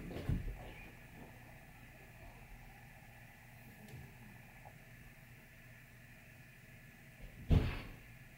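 Doors shut in a quiet room: a couple of soft knocks near the start and one sharper thump toward the end, with faint background hum in between.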